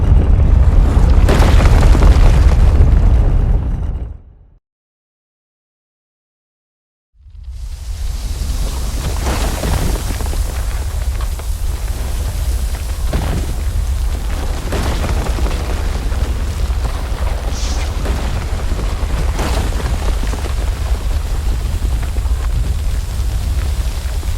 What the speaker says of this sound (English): The temple is collapsing!